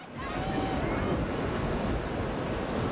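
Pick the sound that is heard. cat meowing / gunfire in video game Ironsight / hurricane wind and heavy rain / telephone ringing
hurricane wind and heavy rain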